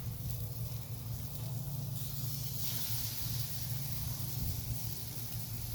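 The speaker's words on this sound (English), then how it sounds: "you're going to hear that old familiar sound. There you go, that sizzle." A soft, steady hiss of ribeye steaks sizzling on a hot grill, with a low background hum and a brief brighter surge partway through.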